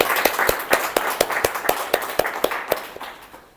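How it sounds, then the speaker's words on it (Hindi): An audience clapping in a roughly steady rhythm, with sharp claps standing out over a dense wash of applause that slowly fades toward the end. "तो हम उनको तालियों की सूरत में खिराज पेश करते हैं।"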